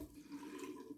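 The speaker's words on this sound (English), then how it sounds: "Some cold water to rinse the alum block off" Cold water runs from a tap over an alum block, a steady, soft splashing hiss that goes on for the whole short moment.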